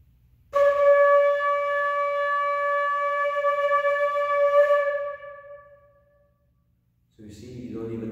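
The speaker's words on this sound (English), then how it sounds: "it makes the whole body of a flute vibrate" One sustained flute note, played without pressing any keys, holds clear and steady for about four seconds in a quiet room before fading, then a voice begins speaking.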